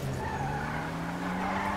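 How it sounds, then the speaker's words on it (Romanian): Toyota GT86 drifting in GTA, tires skidding and squealing in a steady sustained screech over a continuous engine drone, loud and close throughout. "De ce drift fac?"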